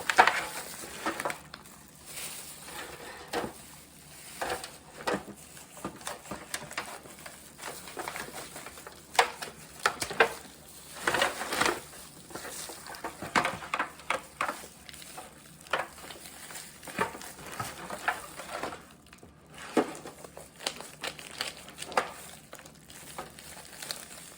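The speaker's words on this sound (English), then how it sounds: "I need my gloves on, so you'll hear some rustling for a minute" Crinkly rustling and soft crackles of gloves being put on while preparing corned beef, irregular bursts close to the microphone with no talking.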